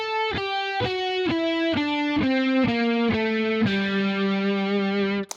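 Distorted electric guitar plays a harmonic minor scale position, about a dozen evenly spaced picked notes stepping steadily downward before a final sustained note, loud and close with no talking.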